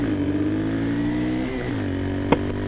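Custom 1967 Honda CT90 motorcycle with a YX140 engine swap, its small engine droning close up, the pitch dipping as it shifts gears and then climbing again as it pulls away, with a brief click near the end.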